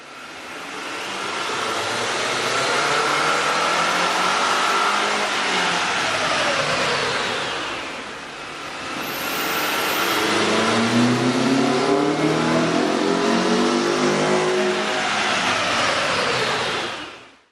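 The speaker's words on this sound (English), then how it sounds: "You can really see and hear the difference the K&N air intake system will make to your car." A car engine fitted with a K&N 69-8617TTK air intake revs loudly up and down twice in long, smooth sweeps, with a brief dip between them. No one speaks.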